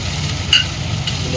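Spices such as cumin, turmeric, coriander and chilli powder fry in oil in a pan for egg curry, a steady close sizzle with stirring scrapes throughout.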